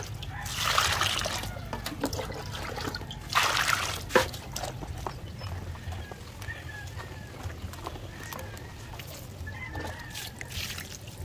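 Water poured from a bucket into a chicken feed mixture on a farm: soft trickling and sloshing with a few louder splashing bursts early on, then quieter dribbles and drips, faint and close.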